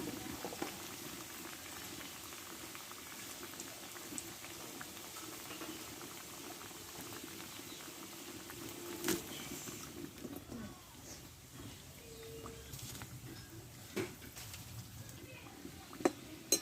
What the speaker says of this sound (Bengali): সবগুলো একবারে আটবে না আমি দুবারে ভাজবো এগুলো